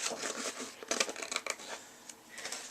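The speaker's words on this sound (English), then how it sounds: "cut it out with my scissors to kind of get it off the sheet" Crisp snipping and rustling of scissors cutting through paper, a quick series of close cuts with short pauses, no talking.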